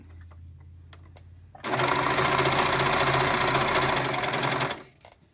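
A domestic sewing machine stitches fabric in one steady, loud, fast run of about three seconds, starting abruptly and stopping cleanly, with quiet room sound before and after.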